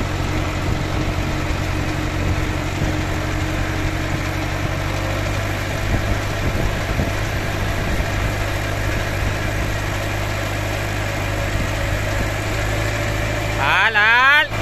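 A tractor engine runs steadily at a close, loud level, with throttle changes as the lever is moved; a brief rise in pitch comes near the end, and voices are faintly present.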